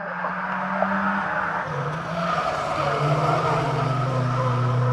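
Race cars roaring around the Grimley Oval Raceway during a final-lap battle for position, engines droning loudly and continuously with shifting pitch as they circle close by, tyres squealing through the corners.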